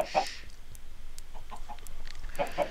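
Chickens clucking in short bursts, with sharper squawks near the start and again toward the end over a low background rumble, as a bunch of them die.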